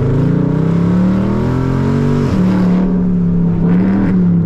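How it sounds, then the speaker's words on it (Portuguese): A V8 car with its exhaust in sport mode revs loudly and close by. A deep droning engine note climbs, dips briefly, then settles into a steady strong hum, with no talk. "No modo esporte, entra o escape no modo esporte também."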